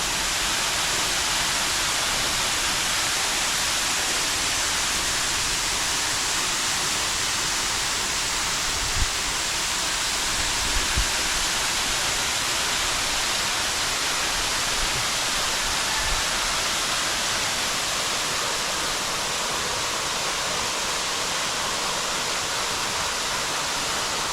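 A small waterfall in a water garden, a steady broadband rush of falling water that runs alone and unbroken at an even level throughout.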